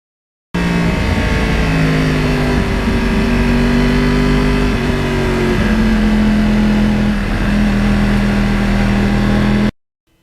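A Yamaha R1 crossplane sport motorcycle engine drones steadily while riding on back roads, holding a near-constant pitch with slight rises and dips, loud and close throughout.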